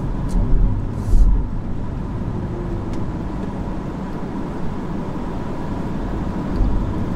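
A 2021 Mini Electric car drives through a tight city suburb in Australia, with a low steady interior road rumble and tyre noise, quiet and continuous with no voices.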